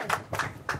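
Three distinct, close handclaps ring out in slow succession from a church congregation.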